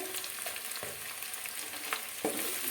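Prawn chili with capsicum is stirred in a pan over a steady, close frying sizzle, with a few sharp spatula scrapes and knocks breaking through.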